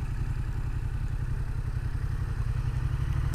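A Yamaha XSR 700 motorcycle weaves figure eights across sand, its engine holding a steady, fairly loud low rumble with slight clatter throughout and no voices.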